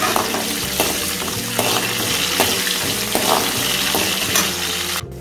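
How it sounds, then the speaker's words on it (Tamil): Jaggery sautéing in oil in a pan while making mint chutney, a steady close sizzle with repeated scraping stirs throughout and a brief clatter near the end. "வெல்லம் வந்து பொன்னிறம் ஆகிற வரைக்கும் நம்ம வதக்கிக்கலாம்."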